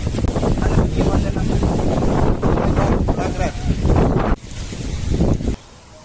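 Strong wind buffets the microphone outdoors at a UK farm, a loud, steady roar with gusty swells that runs through most of the clip and drops off near the end, while people talk over it.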